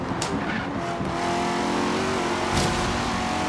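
A sports car accelerating hard in the racing game Forza Horizon 3, with a loud, steady engine whine, brief tire squeal and skidding near the start, heard alone without voices.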